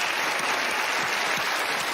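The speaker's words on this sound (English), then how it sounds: "Give her a round of applause" Audience applause for a magician's act on a TV magic competition stage, a steady dense wash of clapping throughout with no voices.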